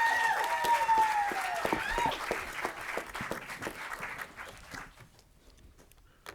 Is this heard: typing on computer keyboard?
no